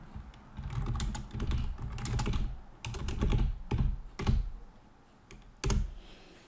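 Someone types code for a C++ dice program on a computer keyboard, producing close, rapid bursts of clicky keystrokes separated by short pauses.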